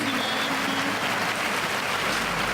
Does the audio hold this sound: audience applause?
yes